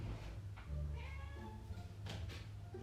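A female house cat meows indoors, a few drawn-out meows at moderate volume over low room rumble.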